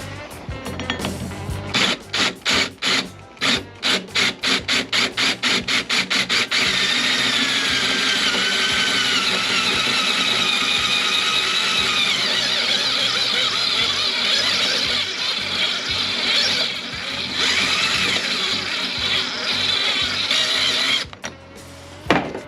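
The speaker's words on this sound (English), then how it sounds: "use the stepping drill, see if we can make this hole just a little bit bigger" A power drill with a titanium-coated step drill bit bites in short rapid bursts, then runs continuously with a grinding, whining cut through metal for over ten seconds before stopping, enlarging a hole.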